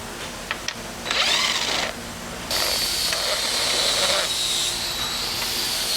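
A power tool with a T40 Torx bit whirs in short bursts, removing an OEM bolt on a Polaris Ranger XP 1000 during a roof rack install; several close, high-pitched runs separated by brief pauses.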